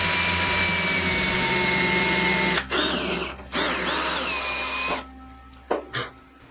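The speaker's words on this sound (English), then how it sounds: "I took a 11/16 drill bit, and I'm going to just pass it through here." A power drill whines steadily as an 11/16 bit reams out a wing spar hole on a foam model airplane. The whine breaks off twice with short pauses, then winds down and ends in a few clicks.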